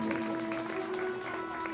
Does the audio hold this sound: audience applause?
yes